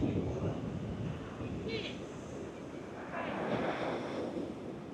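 Strong wind buffeting the microphone on a Hokitika beach during surf casting, a constant loud rushing roar with surf washing in the background and a faint high whistle, no clear talk.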